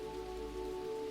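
Heavy rain pours steadily at night on a dark forest road, a constant even wash of sound with a low droning hum underneath and no voices.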